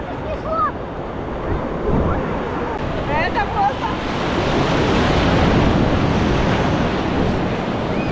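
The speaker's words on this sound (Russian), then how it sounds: "Во, волна идет, смотрите." Ocean waves surging and breaking on a crowded tourist beach at Phuket, Thailand, steady roar of surf with wind buffeting the microphone and brief voices mixed in.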